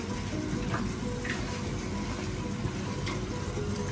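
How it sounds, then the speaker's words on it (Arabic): Broth poured into a quince and prune tagine, a steady, close splashing stream that runs unbroken throughout. "وغادي نضيف المرق"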